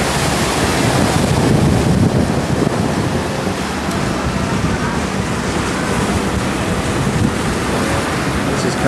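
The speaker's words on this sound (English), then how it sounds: "We've got a little bit of natural waves here." Steady rush of ocean waves and spray at the bow of a moving boat approaching the kingdom at Walt Disney World, with constant wind buffeting the microphone throughout and no clear voices.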